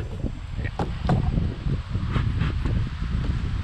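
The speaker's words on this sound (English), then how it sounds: "It's a windy day" Gusty wind on a very windy fall day at a beehive, a steady rushing roar with rustling and scattered crackles, moderately loud throughout.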